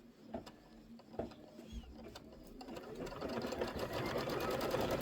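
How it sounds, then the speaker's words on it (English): A sewing machine quilting a bench pillow, starting with a few short bursts of stitching and then running steadily, the whirring hum growing louder and more continuous over the second half. "Here goes the quilting."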